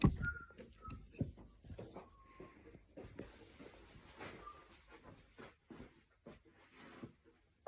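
A person whistles a few short, clear notes spaced out over several seconds, mixed with soft indoor bumps and rustles at moderate distance.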